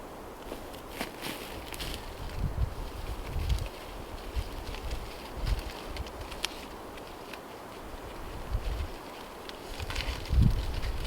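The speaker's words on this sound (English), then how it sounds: "Boy, that wind goes right through you today." Cold winter wind blowing across open rural land, a steady rushing roar with low buffeting gusts against the microphone and faint rustling throughout, continuous and fairly loud with no voices.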